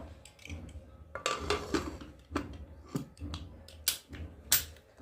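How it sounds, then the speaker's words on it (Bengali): A pressure cooker lid is fitted onto the pot in a home kitchen during chole bhature cooking, producing a series of close metallic clanks and clicks at irregular intervals, with sharper bright knocks toward the end. "এখন প্রেসারটাকে ঢাকা দিয়ে দেব"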